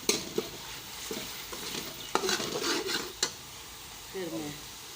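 Potato pieces fry in a pot for a Punjabi-style aloo pulao, with a steady soft sizzle broken by several scraping stirs of a spoon against the metal, close and fairly quiet.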